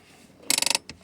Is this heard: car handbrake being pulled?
yes